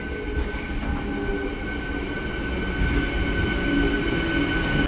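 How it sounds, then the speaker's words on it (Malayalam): Punalur–Kollam MEMU electric multiple-unit train at a railway station, a steady loud rumble and hum of the running train with faint wheel squeal, no voices. "നമ്മുടെ പുനലൂർ കൊല്ലം മെമു."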